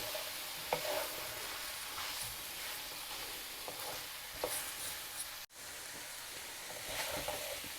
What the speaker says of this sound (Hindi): सब्जियों को हमने चिकन में अच्छी तरह मिक्स करके 2 मिनट के लिए इनको स्टीम में दे देना